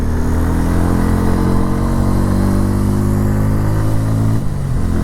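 A Bajaj Pulsar N160 motorcycle engine pulls hard while being ridden past 6000 rpm, a loud, close, continuous buzzing drone that holds steady and then dips briefly near the end.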